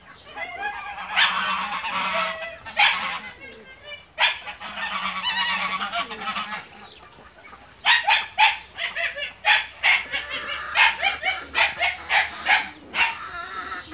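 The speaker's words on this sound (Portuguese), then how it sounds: "Aqui nós temos a gansa, né?" Goose honking in repeated loud bursts on a farm, with ducks and pigeons feeding nearby and a dog barking in between, no talk over it.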